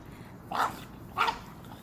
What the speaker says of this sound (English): Our Louie dog boy